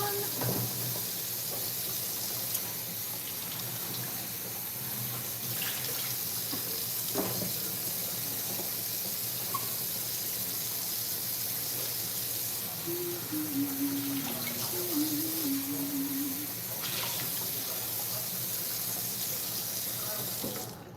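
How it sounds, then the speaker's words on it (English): Tap water runs steadily into a sink while tofu containers are rinsed, a continuous close hiss of flowing water lasting throughout with faint clatter of plastic containers and a brief low hum partway through. "So, I'm just rinsing out the tofu containers."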